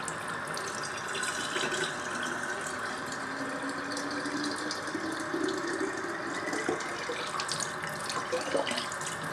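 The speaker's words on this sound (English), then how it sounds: "Now that you have the water jar all filled up, or 3/4 way filled" A hookah's water jar is filled from a running tap, a strong steady gush of water splashing into the glass for several seconds, close and continuous without speech.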